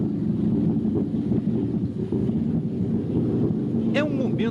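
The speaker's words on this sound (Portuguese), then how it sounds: "E eles vibram essa bexiga natatória e produzem sons." Fish in an aquarium vibrate their swim bladders during the piracema spawning run, producing a continuous low droning chorus like a running engine, steady and fairly loud, with a brief voice near the end.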